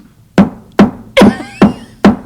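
A voice mimics banging auto body shop work: five sharp, percussive bursts at a steady rhythm, loud and close, with no other talk.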